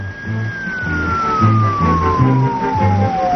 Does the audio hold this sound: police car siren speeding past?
yes